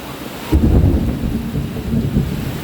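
A heavy rainstorm floods the grounds of a house: a loud, close roll of thunder breaks in over a steady, dense roar of pouring rain, which keeps rumbling without a pause.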